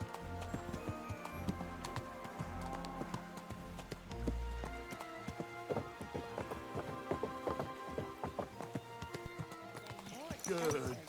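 Hooves of a costly-looking horse clip-clop in a medieval video game, a steady trotting rhythm laid under a dense orchestral score and spoken dialogue, with a brighter clatter near the end.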